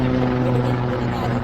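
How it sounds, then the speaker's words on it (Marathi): A military helicopter passes overhead near the abandoned village of Kuldhara in Rajasthan, its steady loud rotor drone and low throb filling the whole moment without letup. "military वाल्याचा helicopter"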